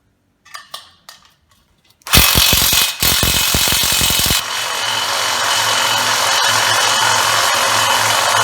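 An Einhell TE-CI 18 Li cordless impact driver with a 140 Nm rating tightens a 13-17 fitting. A few light taps lead into a loud, rapid rattling hammer burst up close, then a steady, continuous motor whir.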